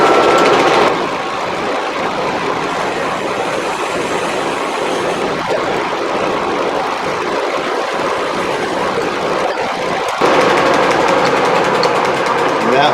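A wooden urn finial is drilled on a lathe, with a steady, loud mechanical whir and grinding hum running without a break for several seconds, then shifting in tone near the end.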